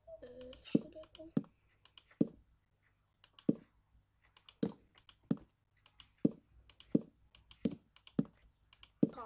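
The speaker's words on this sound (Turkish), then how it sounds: "Orada gelen sesten dolayı o da mouse'tu." Computer mouse clicks, sharp and close, in irregular bursts of one to three with short pauses between, during Minecraft survival play.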